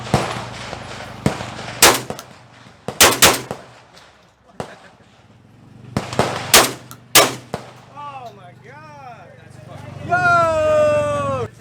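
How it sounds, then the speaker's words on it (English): A fast-cycling shotgun with the Blink operating system fires in quick bursts of sharp, loud blasts with pauses between groups, at an outdoor shooting event, followed by people talking and cheering afterward. "it has the fastest cycle time of any shotgun on the market. They call it the Blink operating system"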